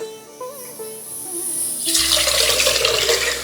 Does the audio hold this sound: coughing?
no